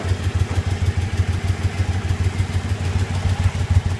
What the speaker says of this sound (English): Here's the stock exhaust.